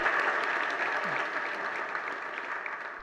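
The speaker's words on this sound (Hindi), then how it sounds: "उसकी तालियां बज रही आज" A dense, steady burst of audience applause fills a religious discourse hall, sustained and fairly loud throughout, with many hands clapping together and slowly tapering slightly toward the end.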